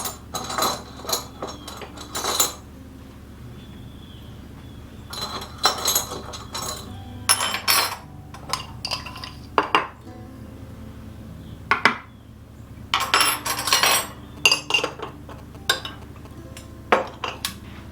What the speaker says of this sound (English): So I'm just going to give that a quick stir to mix those ingredients together.